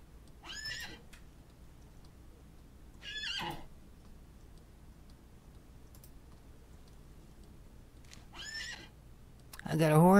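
A horse whinnies in a Wild West video game, with a few short neighs spaced across the stretch over faint keyboard-like clicking, ending in a louder burst.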